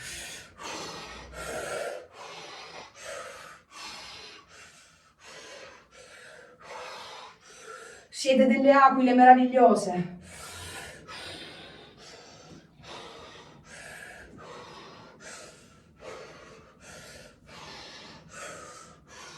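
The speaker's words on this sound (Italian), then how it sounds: "Respirazione circolare che permette l'entrata nello stato d'estasi." During a shamanic ritual, a burst of rapid, deep, forceful breaths lasts about two seconds and is heard amid someone speaking softly throughout.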